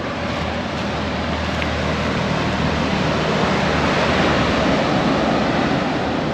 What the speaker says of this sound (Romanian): Valuri imense.